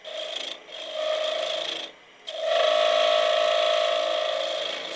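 Gouge scraping a one-inch-thick piece of wood turning on a lathe, a continuous loud rasping hum with a slight bounce in its tone, broken by two brief pauses.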